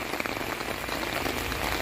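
Rain patters steadily on a surface, a dense, close hiss of drops with no voices.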